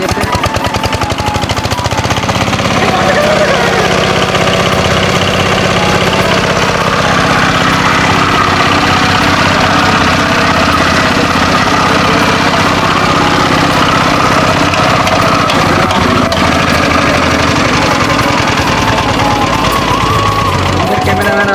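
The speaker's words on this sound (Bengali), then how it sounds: "যাক মেশিন স্টার্ট হয়ে গেছে" A machine's engine has just started and idles loud and close in a steady, dense, rattling drone that stays unchanged throughout.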